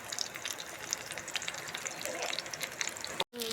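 Masala-marinated fish fries in a pan with a close, dense sizzle and scattered crackling pops, then a brief silence as the sound abruptly cuts out.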